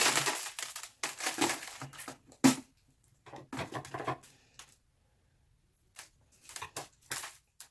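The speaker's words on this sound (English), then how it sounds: "Now these beads are falling. You will have beads on your floor." Loose decorative beads spill and scatter onto a floor during a DIY winter candle holder craft, giving bursts of bright clattering patter with short pauses, then a few sparse bounces near the end.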